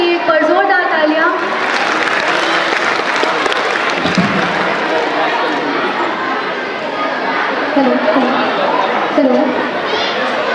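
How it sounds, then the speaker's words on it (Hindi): A crowd at a school annual function in India gives the teachers a long round of loud applause, dense clapping mixed with chatter and a few cheers, heard close and continuous. "टीचर्स के लिए एक बार जोरदार तालियां"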